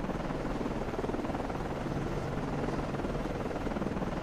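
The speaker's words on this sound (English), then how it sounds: "Let's get the helicopter up." A helicopter lifting off from a submarine in the naval video game Cold Waters gives a steady, dense rotor drone that holds at an even level throughout, with no other sounds standing out.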